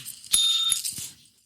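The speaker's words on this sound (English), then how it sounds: "we had sound effects. That's the bell." A bright bell ding rings out clearly, followed by a second strike and a short ringing tail that fades within about a second.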